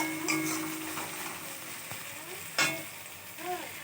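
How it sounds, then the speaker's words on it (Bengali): Onions frying in hot oil in a wok for a meat dish, a steady close sizzle with clinks and scrapes of stirring heard alone. "এখানে তেল গরম করে মাংসের এখন সবে পেঁয়াজ দিয়েছি কড়াইয়ে।"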